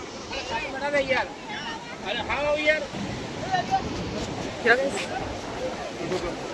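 Sea waves wash against the shore in the early morning, a steady broadband rush mixed with wind noise that runs the whole time beneath several people talking and calling out nearby.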